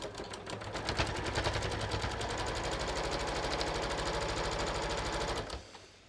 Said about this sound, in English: and we're just gonna sew it.